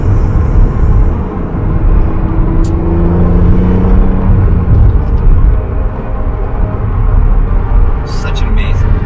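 Car engine held at high RPM while driving, the car built around an S54 engine in an M roadster, a loud steady drone with a rising tonal whine, present throughout with talk over it.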